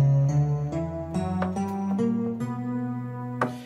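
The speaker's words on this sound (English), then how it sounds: "And this is basically a B harmonic minor scale, so it has a raised 7th, like a major 7th." A B harmonic minor scale with its raised seventh is picked note by note on guitar, a quiet, moderately paced run of about eight distinct tones, each ringing briefly into the next.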